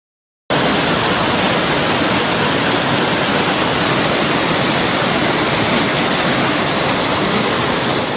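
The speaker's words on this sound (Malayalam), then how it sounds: "അഞ്ഞൂറടി മുകളിൽ നിന്നാണ് തൂവലിൽ വെള്ളം താഴേക്ക് പതിക്കുന്നത്" Thooval waterfall, with water plunging from 500 feet, roars as a loud, steady, unbroken rush that starts abruptly and fills the whole clip with no voices.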